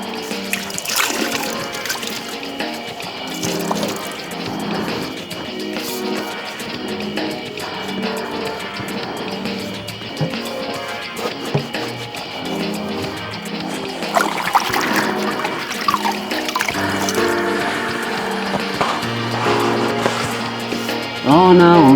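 Water splashes and trickles steadily while rusty wheel hub parts from a Honda Civic FD2 are rinsed off, running continuously for the whole stretch with a tonal background underneath.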